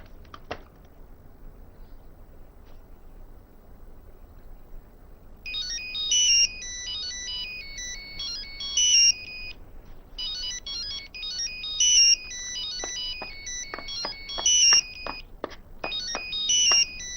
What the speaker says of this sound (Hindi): तुम्हारा फोन बज रहा है, उठा क्यों नहीं रहे?